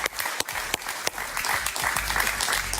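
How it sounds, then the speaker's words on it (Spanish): A Spanish-language TV studio audience applauds steadily, a dense continuous patter of clapping hands that holds at an even, fairly loud level. "Un gran aplauso para"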